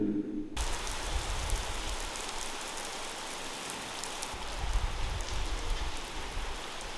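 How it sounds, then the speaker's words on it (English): Heavy rain pours down steadily in Bavaria, a dense, loud hiss of drops on surfaces that swells slightly midway and continues unbroken throughout. "It's really raining, like a lot."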